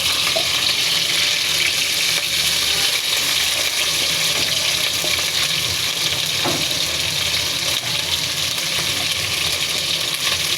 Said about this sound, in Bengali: দেখতে থাকুন কিভাবে মাছগুলো ভেজে নিচ্ছি।